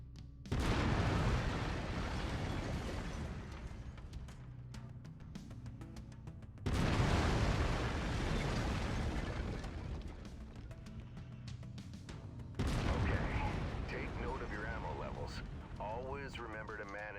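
Heavy mech weapons fire at a firing range in the video game Mechwarrior 5, with booming volleys and sustained roaring bursts in three long waves, loud and close, with a voice talking over parts of it.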